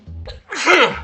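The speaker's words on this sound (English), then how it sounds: "Oh, might still sneeze." A short inhaled gasp, then one loud, close sneeze bursting out, with a quick breath trailing after.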